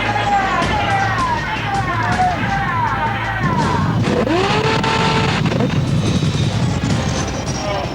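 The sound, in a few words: sailors vocally imitating an attacking aircraft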